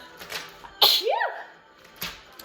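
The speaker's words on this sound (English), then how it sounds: "I'm gonna need a sneeze here." A single sharp sneeze bursts out close and loud partway through, with a breathy intake just before it, set among light voices in an indoor gym during a kids' leg workout and tumbling session.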